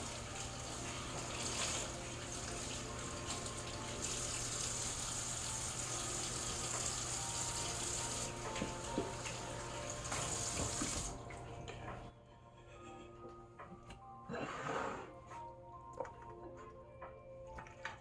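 Raw chicken pieces rinsed under a running kitchen tap, a steady close stream splashing into the sink for most of the time, then cutting off to quieter handling noises and drips.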